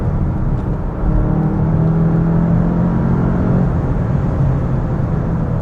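A 2025 VW Jetta GLI with a manual gearbox runs in third gear on smooth, freshly paved twisty road, a loud steady low engine drone and road rumble heard from inside the car, with no talking.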